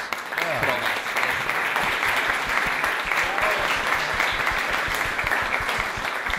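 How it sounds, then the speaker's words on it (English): An audience at a startup business event claps vigorously, producing a thick, sustained wash of applause with faint crowd murmur underneath, steady throughout. "So I think Mirela is also deserving very powerful applause."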